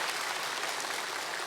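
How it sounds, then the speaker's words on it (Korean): A church congregation at a Sunday service claps in dense, steady applause that fills the room for a moment with no voices over it. "또 이렇게 또 박수 받기는 처음인 것 같아요"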